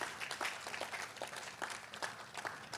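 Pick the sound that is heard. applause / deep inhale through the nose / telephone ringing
applause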